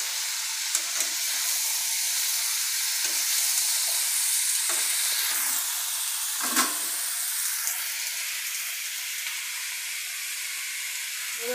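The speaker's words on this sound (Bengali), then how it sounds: "এবার বেগুন দিয়ে দিচ্ছি।" Eggplant going into a pan of frying mixed vegetables, a steady hissing sizzle broken by a handful of scraping stirs, one louder clatter midway, close and without speech.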